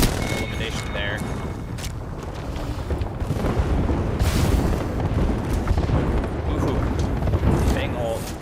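A Bangalore ultimate artillery strike in Apex Legends during a youth esports match: a series of heavy booms and explosive blasts rolls on for several seconds, loud and sustained, with commentators talking over it.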